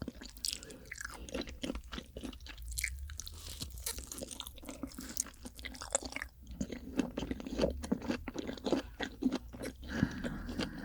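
Giant rock oysters, steamed and gone cold, are chewed close to the microphone with steady wet crunching and squelching. The bites repeat continuously and no voice is heard.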